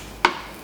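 A knife slices the fuzzy choke out of an artichoke: one short, crisp cut, close and otherwise quiet.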